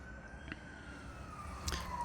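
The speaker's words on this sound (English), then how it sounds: "police car pull up, siren on" A faint police car siren approaching, its tone slowly sliding in pitch, distant and thin over a low rumbling background, with a couple of soft clicks.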